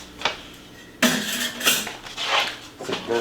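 Dirty dishes and utensils clatter in a kitchen as cookware is set aside, several sharp, close knocks and clinks of ceramic and metal at irregular intervals, with no talking.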